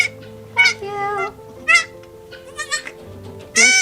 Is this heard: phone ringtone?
no